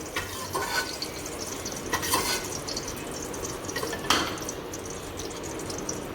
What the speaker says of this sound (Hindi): वो अब मैं इसके अंदर डाल के तो फ्राई कर रही हूँ।